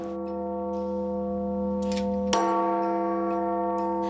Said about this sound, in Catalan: Les campanes no són per a veure, són per a sentir.